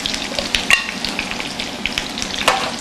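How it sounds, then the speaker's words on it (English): Asparagus sizzling in hot seasoned oil in a pan, a loud, close, steady crackle and hiss broken by scraping stirs, with no talk. "And I'm getting it all into that seasoned oil, stirring that around a little bit."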